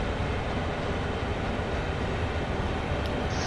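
A train rolls along the track with no power applied in Train Sim World 2, giving a steady, loud, unbroken rumble and rail roar throughout, with no voices.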